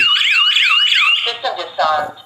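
Home security alarm system from an ACJ-407 WiFi GSM touchscreen kit sounding at close range: a loud, rapidly warbling electronic siren that cuts off after about a second, followed by short chirping tones.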